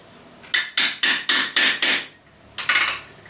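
A hammer tapping a lock-on socket on a Hayabusa motorcycle in a garage: five sharp metallic raps in quick succession, a pause, then a tighter cluster of two or three more, close and loud with no talk.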